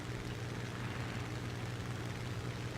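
The engine of a Kittyhawk fighter plane in the game War Thunder drones steadily with a low, continuous propeller hum, unchanging and moderately loud, with no talk.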